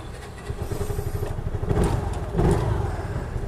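A 2020 Piaggio Ape City Fi three-wheeler's small engine chugs in a rapid pulsing rumble with a mechanical clatter, swelling in two brief revs before settling, with no voices.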